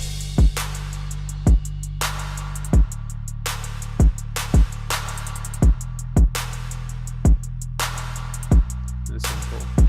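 Programmed hip-hop drum beat with claps and layered hi-hats from a remake of an instrumental, with steady sharp hits over a booming low bass pattern, repeating evenly and loud, no talking.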